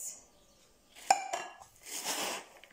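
A utensil knocks and scrapes against a bowl while ingredients coated in chocolate are mixed: a sharp clink, a few lighter scrapes, then a softer rustling stir, all close and quiet with no voices.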